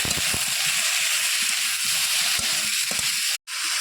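Mixed vegetables with turmeric, salt and chili paste being stirred in a pan, a steady frying sizzle broken by scraping spoon strokes and soft knocks, with one brief dropout near the end.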